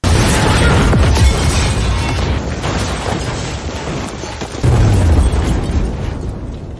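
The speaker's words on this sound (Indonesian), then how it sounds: "saat ledakan besar terjadi, tubuhnya terpental ke bawah" A large explosion tears through a room full of gas cylinders, a loud sustained roar and rumble with a second deep boom surging midway through, then slowly fading.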